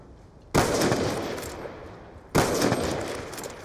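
Two loud, sharp gunshots from a sniper rifle in Call of Duty: Black Ops 2 multiplayer, the first at about half a second and the second near two and a half seconds, each trailing into a rumbling decay.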